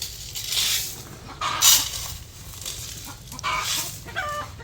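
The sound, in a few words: chickens clucking and cackling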